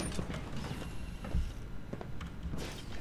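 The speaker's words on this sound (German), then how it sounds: "Tür öffnen." Mechanical creaking and clanking of a door-opening mechanism in the video game Fallout 4, a grinding, ratcheting run of metallic movement with a heavier knock midway, heard alone.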